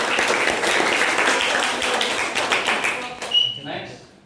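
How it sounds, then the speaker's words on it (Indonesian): A classroom group claps together, dense steady applause for about three seconds that then trails off into scattered claps and quiet. "Tepuk tangan untuk kalian semua."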